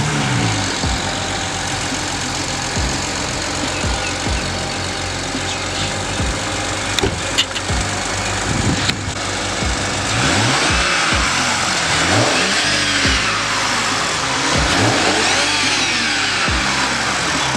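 A modified BMW car engine, sounding like it starts and then revs repeatedly in rising and falling sweeps. It is loud and close, with no talk over it.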